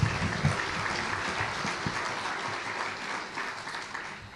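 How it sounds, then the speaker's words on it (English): Steady applause rises from the crowd at a 2014 mission assembly as a keynote speaker is welcomed, moderately distant clapping continuing evenly throughout. "Let's give him a round of applause"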